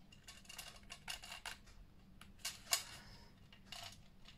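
Light metallic clinks and taps of scissors against a glass plate, scattered and close, with quiet handling noise between them.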